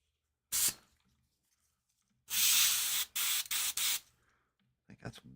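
An old airbrush sprays paint at high air pressure in short loud hissing bursts, one brief blast, then a longer burst broken into several pulses, and a final faint spurt, close to the mic with silence between.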